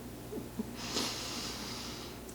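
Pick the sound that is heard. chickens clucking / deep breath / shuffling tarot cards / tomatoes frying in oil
deep breath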